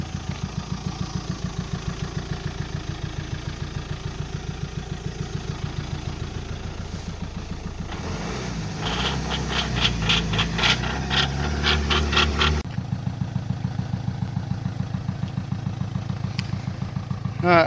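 A Mitsubishi Outlander diesel engine runs with its intercooler pipe removed during a fuel and vacuum pump repair, giving a steady close idle with a rhythmic low clatter that roughens and gets louder for a few seconds before settling back.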